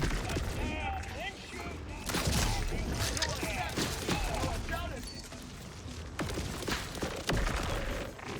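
Laser cutter gun firing in the Borderlands 4 video game, bursts of zapping and crackling shots recurring through the stretch, loud and close, mixed with game effects and a person talking over it.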